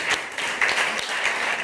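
A class of eighth-grade students breaks into applause, a dense, steady wash of many hands clapping together, close and loud, lasting under two seconds.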